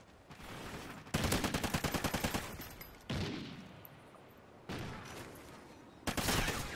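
Bursts of rapid automatic gunfire from Call of Duty: Ghosts multiplayer, several loud volleys separated by short pauses and quieter ambient game noise.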